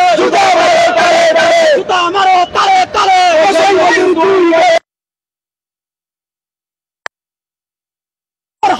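Protest crowd in Bangladesh chanting slogans loudly in rhythmic unison, close and forceful for several seconds, then breaking off into silence with a brief tick and a short return of noise at the end.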